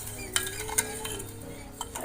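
A spoon scrapes and clinks against a metal pot while stirring half a kilo of sugar into water for syrup, with a few sharper knocks over a soft bubbling background.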